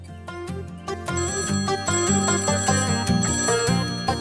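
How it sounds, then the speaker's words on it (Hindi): A phone in a household plays a melodic ringtone, bright, repeating musical notes that sound loud and steady with no voices over them. "अरे नैना, फोन बज रहा है।"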